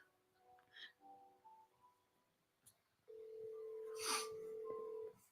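A phone call is placed and waits to connect. Faint, scattered taps and quiet sounds come first, then a steady, fairly loud calling tone holds for about two seconds with a brief noise in the middle.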